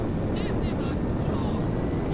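A fixed-wing airplane in the video game GTA 5 drones steadily with an engine hum and wind rush throughout, while someone talks over it.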